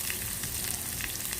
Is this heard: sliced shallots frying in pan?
yes